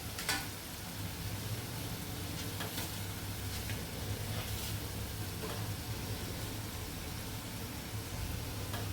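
Boiled potatoes cook in a pan over a low flame, giving a steady, soft sizzle that runs throughout with no voices.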